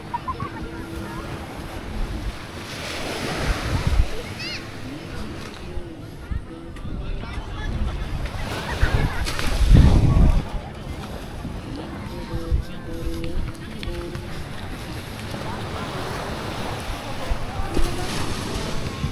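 Sea waves wash onto the shore at Nasugbu Bay beach in Batangas, a steady surging roar with swells rising and falling, mixed with strong wind buffeting the microphone; a person talks over it at times.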